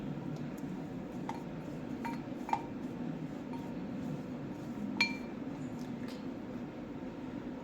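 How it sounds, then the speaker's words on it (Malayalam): A brush mixes Streax Professional hair highlight colour in a bowl, making faint, sparse clinks and taps against the bowl over a low, steady background hum. "നമുക്ക് ഈ ബ്രഷ് വെച്ച് മിക്സ് ചെയ്യാം"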